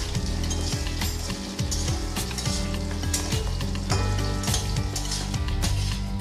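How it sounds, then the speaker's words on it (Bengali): Bottle gourd fries lightly in oil in a pan, a loud, steady sizzle with crackling spatter and occasional scraping stirs, while music plays along underneath. "লাউটাও আমি হালকা করে তেলের সাথে ভেজে নেব।"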